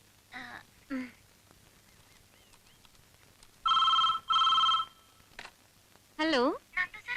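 A telephone gives two short, loud electronic rings in quick succession, with people talking in the gaps before and after.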